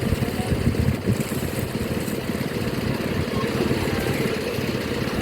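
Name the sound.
tractor engine running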